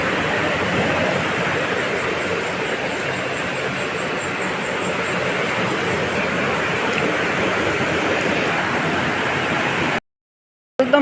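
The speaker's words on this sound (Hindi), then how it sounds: "इतनी हवा चल रही है, ये पानी भी हिल रहा है।" Wind blows hard over the Ganga river at Rishikesh, a loud, steady broadband rush with water churning beneath it that runs unbroken for about ten seconds before cutting out abruptly.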